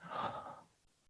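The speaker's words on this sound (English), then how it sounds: "Breathing out." A child-level guided breathing exercise: one soft, airy exhale lasting under a second, fading out quietly with no talk over it.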